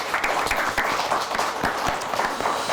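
Broad applause from a small studio audience greeting the winning team at a televised high school quiz show, steady and fairly soft with scattered sharper claps throughout.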